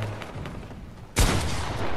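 Fortnite shooting: a burst of gunfire erupts abruptly after a quiet stretch, loud and sustained with dense rapid shots continuing to the end, no talking.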